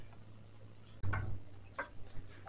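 Steady high-pitched cricket chirping runs throughout, with a louder burst of rustling or movement partway through and a few soft taps after.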